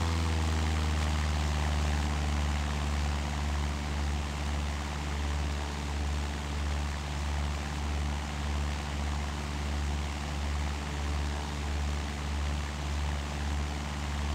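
A propeller airplane engine in a flight simulator drones steadily with a deep, throbbing hum that pulses gently in level flight, loud and constant, with no voices.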